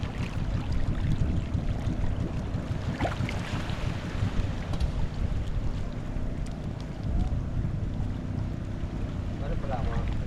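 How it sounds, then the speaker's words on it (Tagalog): A Honda boat engine drones steadily under heavy wind buffeting the microphone, with a voice speaking intermittently over the rumble. "ang ganda ng tunog ng makina nila. Honda."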